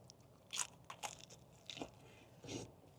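Close crunching bites into crispy Jollibee fried chicken, a few separate crisp bursts spaced apart over a quiet background, with soft chewing between them.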